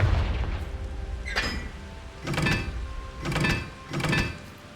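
Confringo explosive spell blasts in the video game Hogwarts Legacy, four booming bursts about a second apart, each a loud rumbling impact with a crackling tail over a continuous low ambient bed, no talking.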